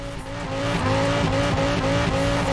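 A mid-engined Quadra car drifting in Forza Horizon 4 on standard tyres with high rear pressure, its engine roaring loud and steady while the tyres squeal continuously through the slide, with no talking.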